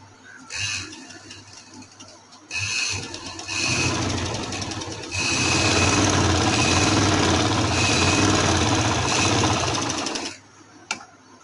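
An electric sewing machine stitches a party wear dress in three bursts: two short runs, then a long steady whir of several seconds, with brief pauses between and a small click at the end.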